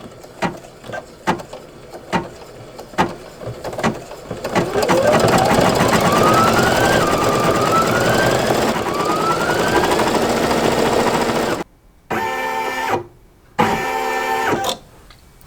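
An embroidery sewing machine stitches words onto appliqué, starting with a string of separate ticks and then settling into a loud, steady rapid whirring hum. Near the end it stops and starts in short bursts.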